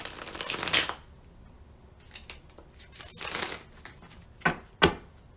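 A deck of cards being shuffled nearby: a couple of riffling bursts, then a few sharp snaps as the cards are squared.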